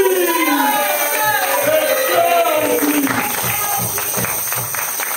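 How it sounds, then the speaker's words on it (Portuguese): Audience at a staged dramatic reading claps steadily, a sustained burst of applause that fades slightly toward the end while faint tonal sounds linger in the room. "Aplausos!"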